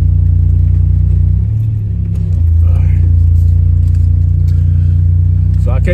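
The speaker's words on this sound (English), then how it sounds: "The transmission noise just irritates me" A Buick Grand National with methanol injection rumbles loudly and steadily up close, its engine drone carrying a continuous transmission whine, with a brief dip in the middle before the revving resumes.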